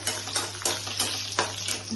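A soft, steady sizzle of bay leaf, cardamom and cinnamon frying in ghee, broken by a few quick stirring scrapes, with a low hum underneath.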